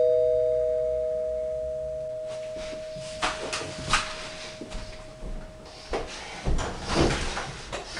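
A doorbell chimes with a single sustained tone that slowly decays, followed by a series of clattering knocks and thuds, like a door being handled, at moderate volume with no talking.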